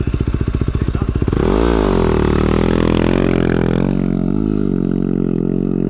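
An enduro motorcycle with an FMF exhaust idles with a pulsing beat on sand in the Little Desert, Australia, then revs hard and pulls away, staying loud and close as the engine climbs and shifts.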